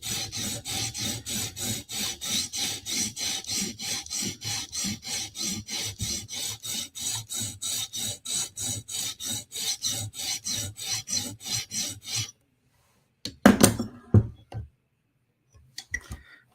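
A VG10 steel Spyderco knife is stroked perpendicular to the edge on a sharpening stone, giving a steady rhythmic rasp of about thirty close, even strokes. The strokes stop and are followed by a few brief clicks and handling noises.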